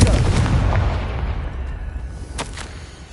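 A Confringo blasting curse detonating in the Hogwarts Legacy game, a loud booming explosion at the start that decays into a rumbling tail, followed by a couple of sharp crackling bursts.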